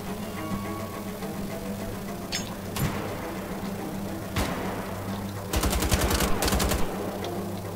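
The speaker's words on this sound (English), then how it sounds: "Assault rifle's a nice, very reliable, solid weapon." Assault rifle fire in the video game Wolfenstein: The Old Blood, with a few single shots followed by a rapid automatic burst, all over constant game background noise.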